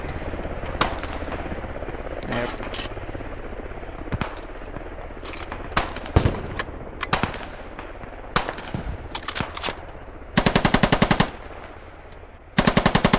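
Machine gun fire in the video game Squad, coming in scattered short bursts and single shots at varying distances, then a long sustained burst near the end, loud over a constant background rumble.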